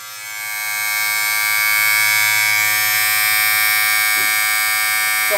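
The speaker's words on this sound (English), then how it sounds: "Here's what the motor sound like," A budget electric beard trimmer motor from a 14-in-1 grooming kit spins up and holds a loud, steady high-pitched buzz, close to the microphone, with a couple of faint clicks near the end.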